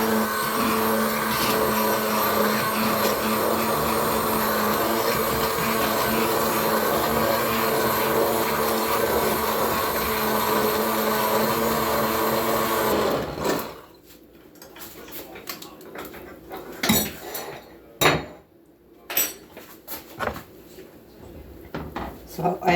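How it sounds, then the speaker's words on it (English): A motorized hand blender whirs loudly and continuously for about thirteen seconds blending butternut squash soup in a pot, then stops, leaving clatters and knocks of kitchen handling. "I'm going to take my hand blender and I'm going to blend all of this in here."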